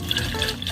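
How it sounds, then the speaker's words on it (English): Chicken broth pours in a steady liquid stream into a spaghetti pan of sauce, a close, continuous splashing gurgle with no talking. "So I'm gonna pour some into the spaghetti pan."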